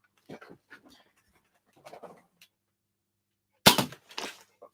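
A Nerf Mega blaster fires big chunky foam darts: two sharp, loud pops close together near the end, after a stretch of quieter handling clicks and rustles.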